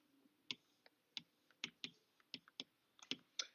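Quiet, crisp key taps on a calculator keypad, about a dozen irregular presses in quick succession, close to the microphone.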